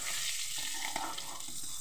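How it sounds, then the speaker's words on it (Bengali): Sea fish sizzles in hot oil, a continuous close crackle with occasional soft stirring sounds mixed in. "মাছগুলো ভেজে নেব।"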